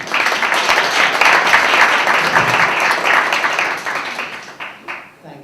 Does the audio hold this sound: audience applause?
yes